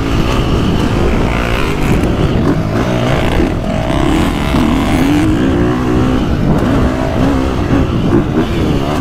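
A 2025 KTM 350 XCF dirt bike engine roars loudly and continuously on a motocross track, revving up and down as it pulls through the gears with a steady, close, buzzing drone.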